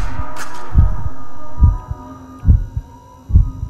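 A heartbeat in the Backrooms video game thumps in slow, evenly spaced double beats, loud and close over a faint steady hum, with no voices.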